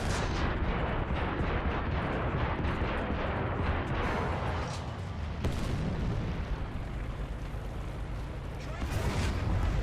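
Artillery fire in the tank combat video game War Thunder, heavy booming blasts over dense continuous battle noise, loud and close, with a sharp crack near the middle and a speaking voice faintly under the din.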